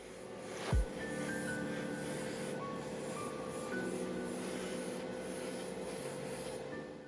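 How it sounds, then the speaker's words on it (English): Car body panels of a BMW E46 320i M-Tech being sanded with 600 grit sandpaper produce a steady rubbing hiss throughout, close and moderately quiet, with a brief knock near the start. "those were sanded out again with a 600 grit to make them nice and smooth"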